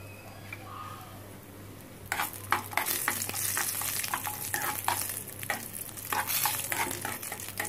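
Broken cashews sizzle and crackle frying in hot ghee while a utensil stirs and scrapes the pan in short repeated strokes, close and fairly loud.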